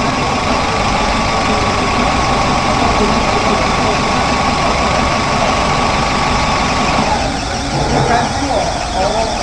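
A car engine idles steadily with a dense, continuous rumble while a technician checks start pulse width on a sensor tester, the tone shifting slightly near the end.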